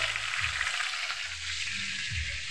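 Steady crackling sizzle of fish frying in hot oil, continuous and fairly close, with faint low clatter underneath.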